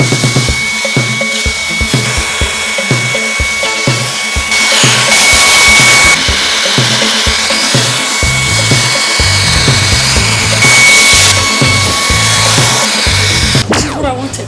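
A Ryobi 18V ONE cordless stick vacuum runs with a steady, loud motor whine and airflow hiss, rising in pitch briefly as it is pushed across the floor, with no talking.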